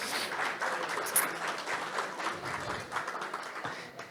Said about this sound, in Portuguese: Uma salva de palmas para o Pedro, gente.